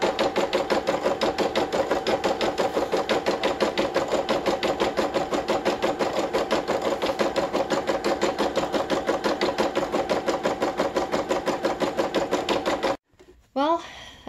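A home embroidery machine stitches Tudor cuff embroidery with a fast, steady mechanical chatter of needle strokes that runs loud and continuous for about thirteen seconds, then stops abruptly, leaving a brief quieter clatter at the end.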